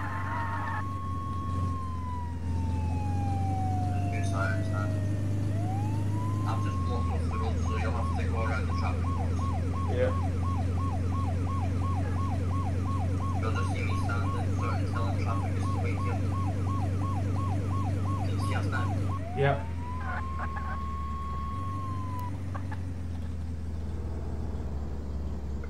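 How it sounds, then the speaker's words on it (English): An ambulance siren in the Flashing Lights emergency-services video game wails steadily, then switches to a rapid yelp pattern before returning to a slow wail, heard over a constant engine drone. "ambulance on the way."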